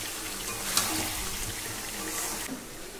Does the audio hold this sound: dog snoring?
no